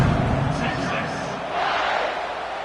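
Crowd noise in a simulated American football game swells as a broad, steady roar beneath a commentator's voice, which talks continuously over it.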